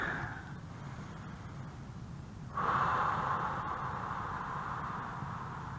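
A person doing a breathing exercise during a neurological exam, with faint, breathy airflow that swells into a stronger, sustained exhale or snort-like breath partway through.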